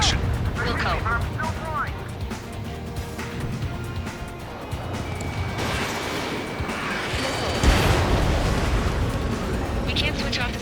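Dense, continuous rumble of explosions and combat noise in the jet combat game Ace Combat 7, loud and sustained with a heavier boom near the end, with radio voices and music woven through.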